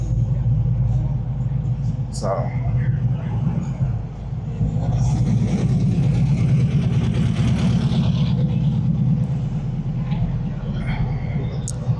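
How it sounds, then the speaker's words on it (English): A Chevrolet Caprice idles and rolls up nearby at a car show with a deep rumbling engine, amid crowd chatter and background noise; a voice speaks briefly. "You got the Caprice pulling up."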